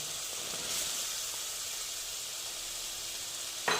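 Fried potatoes going into a hot pan for aloo dum, a steady broad hiss of sizzling oil with a brief clatter near the end.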